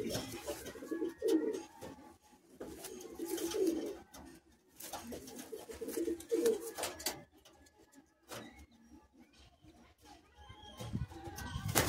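Madrasi high-flying pigeons at a Kolkata sale coo in repeated soft, throaty bursts, several calls spread across the stretch amid scattered clatter and low background murmur.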